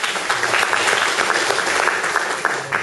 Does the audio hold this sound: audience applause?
yes